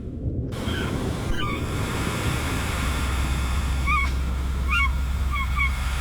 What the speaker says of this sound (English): Adelie penguin. These hyperactive, tuxedo-clad birds with stark white eye rings build pebble nests on barren shores